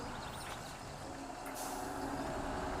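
A Renault vehicle reverses through mud, giving a steady, dense mechanical rumble and hiss with no pauses, close and constant throughout.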